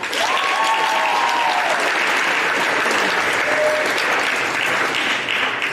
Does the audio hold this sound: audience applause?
yes